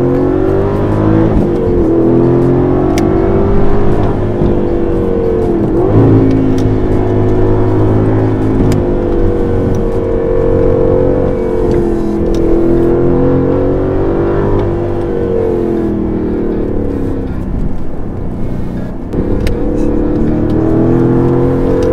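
Aston Martin Vantage AMR with a big V8 and manual gearbox accelerates hard through the gears, a loud sustained engine roar rising in pitch, dropping at shifts and climbing again, heard from inside the car.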